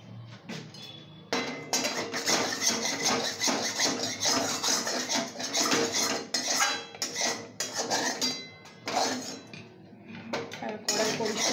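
Metal utensils scrape and clink against a kadai (wok) as it is cleaned, in a run of bursts of loud, close, rhythmic scraping broken by short pauses, with a voice faintly in the background.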